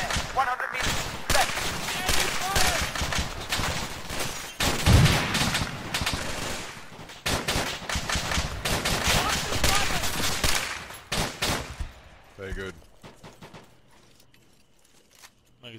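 Rapid automatic gunfire and a dense firefight roar in the military shooter ArmA 3, then thin out toward the end, with voices talking over the shooting.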